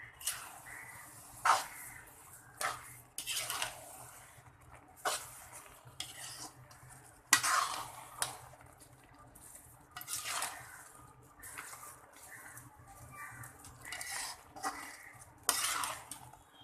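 Beetroot halwa cooking with sugar in a pot, with a spoon clinking and scraping against the metal in repeated bursts every second or two, and a soft bubbling between strokes; no one talks.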